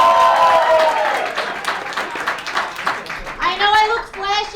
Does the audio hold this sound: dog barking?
no